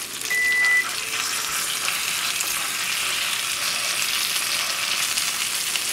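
Rack of lamb sears in a hot skillet with a steady, loud, close sizzle that holds throughout, after a brief sharper burst at the start.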